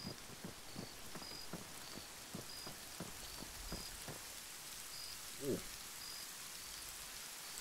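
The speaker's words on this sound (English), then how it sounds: "Did I say the rain stopped?" Rain falls in the military shooter game Arma 3, a soft steady patter under a run of sharp, evenly spaced knocking sounds and a faint high periodic tone, all fairly quiet.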